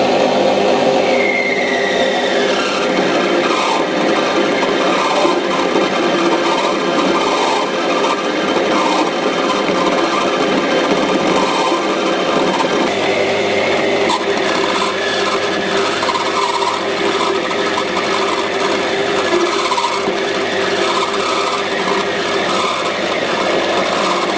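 A metal lathe runs at 970 RPM with a Dixon quick change tool post mounted, cutting a workpiece with a continuous rough, rasping scrape and steady machine drone, close and loud throughout with no pauses.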